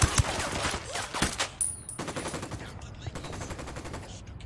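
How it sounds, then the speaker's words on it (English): Gunfire from the Ghost Recon Wildlands video game comes in rapid automatic bursts and scattered shots at moderate volume over faint background sounds. "I'm opening fire."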